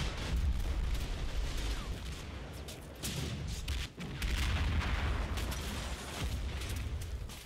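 Artillery and small-arms fire in the WWII strategy game Combat Mission Battle for Normandy rumble in a dense, continuous barrage of overlapping booms and crackles, with brief dips in intensity.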